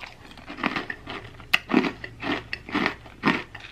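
Crunching of homemade cereal with honey roasted peanuts in milk, about five loud chewing bites in an even rhythm, close to the mic, with no talking.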